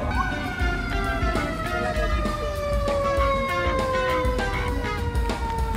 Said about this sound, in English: Here comes the sirens. Fire trucks and all that good stuff.